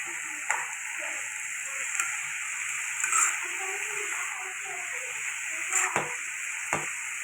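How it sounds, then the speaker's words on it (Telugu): Amaranth leaves frying in a pan for a capsicum, amaranth and toor dal curry give a steady soft sizzle and hiss, broken by a few brief stirring scrapes and clinks. "తోటకూర వేసేసి వేపుతాను."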